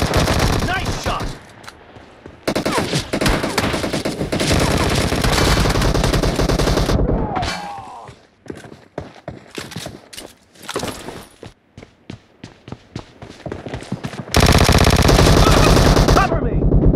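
Gunfire in the mobile shooter PUBG Mobile, played on a Samsung S10 Plus: loud, dense automatic bursts, then a stretch of rapid, separate close shots, and a final heavy sustained burst.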